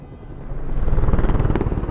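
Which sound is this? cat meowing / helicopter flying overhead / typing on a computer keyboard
helicopter flying overhead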